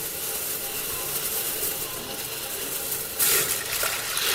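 Water runs and splashes over mixed dal being washed in the kitchen, a steady soft wash that surges louder near the end.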